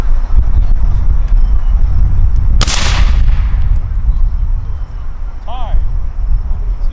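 Black-powder Civil War rifles fire in a volley during a timed firing competition, a single sharp broadband crack near the middle over steady wind and outdoor rumble, with a faint tone afterward.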